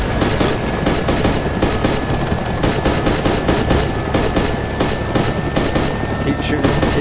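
Dense, loud gunfire from the survival game DayZ, with rapid overlapping shots and bursts in a continuous barrage for several seconds, while players talk over it.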